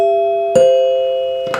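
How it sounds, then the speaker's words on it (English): A 1939 NuTone dinner chime rings loud and close, its tones struck one after another with long, sustained metallic ringing that decays between strikes. "a serious blast from the past for a NuTone dinner chime from about 1939"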